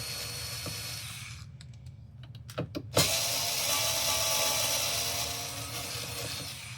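An automatic screw gun driving screws at a workbench, a steady mechanical whir with a few sharp clicks before a louder sustained motorized buzz takes over.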